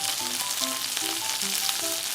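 Fish and vegetables frying in a pan, a steady, dense sizzle with light stirring clicks, close and continuous with no voices.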